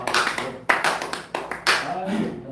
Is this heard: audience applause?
yes